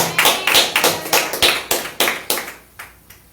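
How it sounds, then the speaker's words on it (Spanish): Rhythmic hand clapping in praise at a church service, about a dozen sharp, steady claps at a lively even pace, fairly close and loud, slowing and fading slightly toward the end. "Esas palmas de alabanza son para el Cristo de la gloria."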